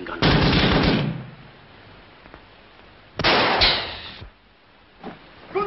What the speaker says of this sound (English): Another ruddy machine gun.